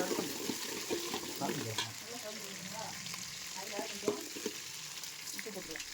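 Onions fry in oil while a ladle stirs them, a steady close sizzle with intermittent scraping knocks against the pan and faint talk in the background.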